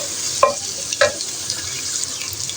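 Chopped onions fry in hot oil in a pan, a steady close sizzle broken by a couple of scraping strokes from a stirring spoon.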